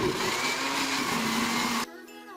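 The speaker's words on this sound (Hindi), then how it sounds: "मैंने ग्राइंडर में डाल दिया और अब इसको अच्छी तरह से हम ग्राइंड करेंगे" A steady, loud electric grinder whirs continuously grinding red chili sauce, then cuts off abruptly near the end, leaving a quieter hum.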